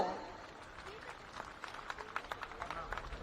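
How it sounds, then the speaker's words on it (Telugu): Crowd applause for senior citizens' performance at a Surya Namaskar record event in Amaravati builds into scattered, lively clapping, with voices murmuring underneath throughout. "సీనియర్ సిటిజన్స్ చేసిన అద్భుతమైన ప్రదర్శనకి గట్టిగా చప్పట్లు."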